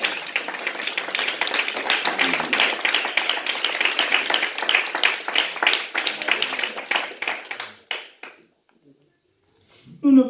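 A church congregation claps and applauds in dense rapid bursts for about eight seconds, then the clapping fades out into near silence before a voice briefly returns.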